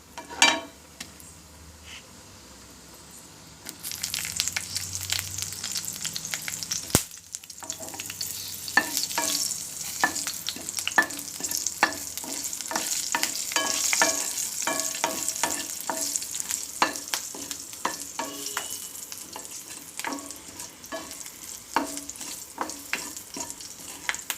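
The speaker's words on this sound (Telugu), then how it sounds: "ఇంగు వేగిపోయింది ఇప్పుడు పచ్చిమిరపకాయలు" Asafoetida and green chillies frying in oil for a brinjal chutney, a quiet start giving way to a loud, crackling sizzle with continual stirring clatter close by.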